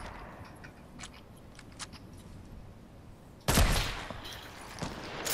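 A single sharp sniper rifle gunshot cracks out in a first-person shooter video game, sudden and loud after a quiet stretch, followed by a brief reverberant tail.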